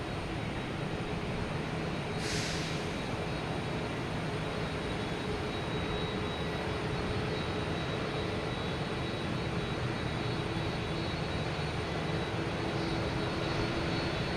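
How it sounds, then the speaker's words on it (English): A Virgin Atlantic Boeing 777 from London Heathrow passes at Boston Logan Airport, its engines a steady, broad roar that holds at the same level throughout without fading. "We have that Virgin Atlantic coming around in front of us here. The 777 coming from London Heathrow."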